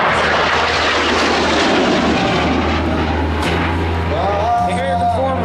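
An AV-8 Harrier jet makes a second pass at an air show, a loud, steady engine roar that dominates throughout, with a voice speaking over it near the end.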